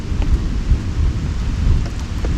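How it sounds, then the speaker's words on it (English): Loud rolling thunder rumbles through a hot summer rainstorm beside a fishing spot, with low booms swelling over steady rain hiss and no one talking. "That's some pretty good thunder there."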